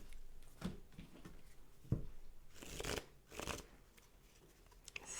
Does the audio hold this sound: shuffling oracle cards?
yes